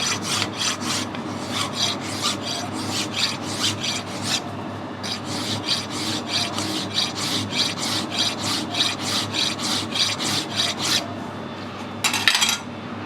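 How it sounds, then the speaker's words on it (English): A fine machine file rasps steadily back and forth across a Stuart engine crankshaft, a long run of even, rhythmic strokes close by with a brief pause midway and a harsher scrape near the end; no voices. "I'm going to have a go at that with a file before I put the emery tape on it."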